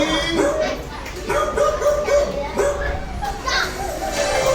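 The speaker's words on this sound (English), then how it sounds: "That's a dog." Recorded dog barking for a classroom vocabulary game, a string of short barks and yips at moderate distance under a busy background of children's voices.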